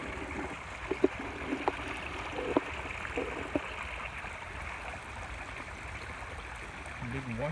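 A full creek runs steadily over a washed-out spot, giving a soft continuous rushing with a few faint clicks and knocks close by, fairly quiet throughout and with no voices.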